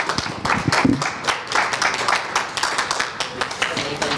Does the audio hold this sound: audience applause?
yes